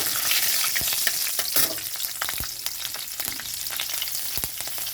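Green chillies dropped into frying spinach in a pan, a continuous crackling sizzle with sharp spits and pops, close and fairly loud.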